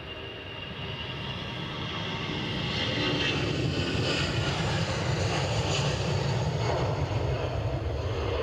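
KLM airliner taxiing at Edinburgh airport toward the runway, a steady broadband jet engine roar that swells slightly and holds, heard from a distance outdoors with no talking.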